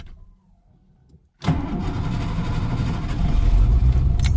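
An older car cold-starts after a quiet pause: a sudden catch of the engine, then a loud, rough, steady idle close by that swells slightly toward the end.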